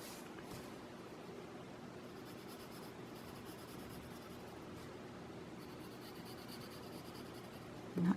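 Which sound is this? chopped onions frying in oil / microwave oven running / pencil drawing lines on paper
pencil drawing lines on paper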